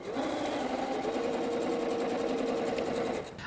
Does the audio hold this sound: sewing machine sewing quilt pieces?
yes